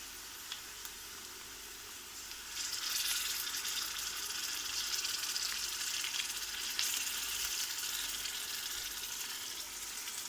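Ginger garlic paste frying in a pan for a chamagadda fry, a soft steady hiss that swells louder partway through and then holds as a continuous sizzle, with no voices.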